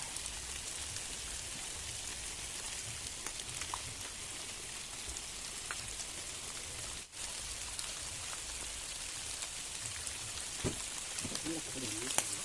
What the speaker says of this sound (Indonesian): Hujan soalnya guys.